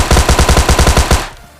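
Rapid burst of automatic gunfire in PUBG Mobile Lite, about a dozen loud, evenly spaced shots over roughly a second before cutting off, with no talk.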